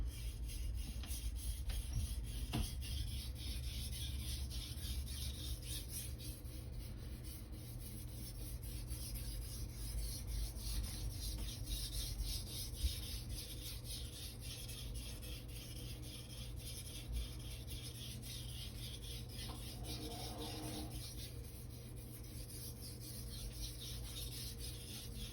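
A knife with an Aogami Super steel core and stainless cladding is sharpened to raise a burr, giving a faint, steady rubbing and rasping of steel strokes against an abrasive surface.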